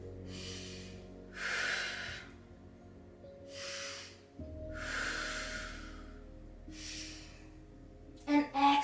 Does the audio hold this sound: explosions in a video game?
no